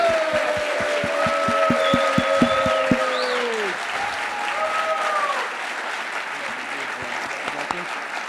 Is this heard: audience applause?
yes